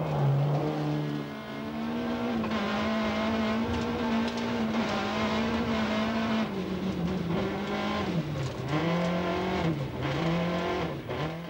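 Rally cars race flat out on the Roller Coaster stage at Rally Australia 1991. A loud engine wails continuously and close, its pitch sweeping up and down through gear changes, with hints of tyre noise on the gravel.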